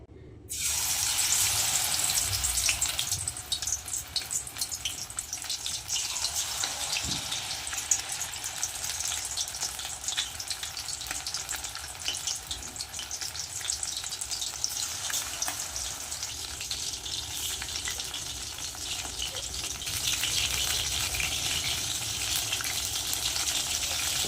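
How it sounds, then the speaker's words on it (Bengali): Amudi fish pakoras fry one by one in hot oil, a steady, loud bubbling hiss that runs unbroken from start to finish with only faint clinks under it. "তখন আমি একে একে মাছগুলো ভেজে নেব তেল কিন্তু ভালোই গরম হয়ে গেছে"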